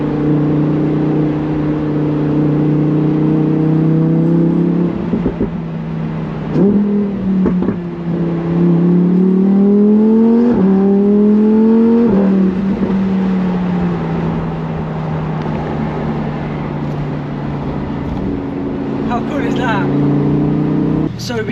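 A Lamborghini with its roof down rumbles and revs, the engine note rising and falling through several climbs over a steady idle, with a voice talking over it outdoors.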